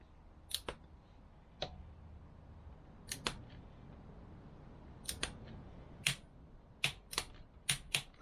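Small torque wrench tightening the final drive drain bolt on a Honda VFR1200 Crosstourer motorcycle gives a series of sharp, close metallic clicks, irregularly spaced and some in quick pairs, over a quiet background.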